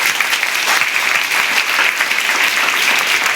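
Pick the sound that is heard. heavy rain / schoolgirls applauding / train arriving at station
schoolgirls applauding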